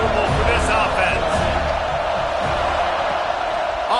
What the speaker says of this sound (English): Crowd trying to make life miserable for this offense.